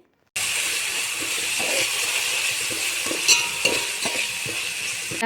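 Steady sizzling of oil in a pan as turmeric and salt are stirred in for egg biryani with plain rice, a continuous close hiss with a few soft scrapes and clinks of the spoon.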